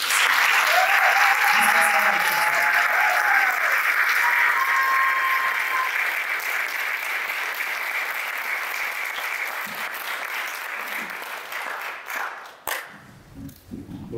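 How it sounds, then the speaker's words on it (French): An audience at an outdoor poetry market in Bordeaux breaks into sustained, dense applause that stays strong for over ten seconds, then thins and fades near the end, with faint voices and whistles mixed in. "s'il vous plaît, je vous demande un maximum et un tonnerre d'applaudissements pour Cheikh."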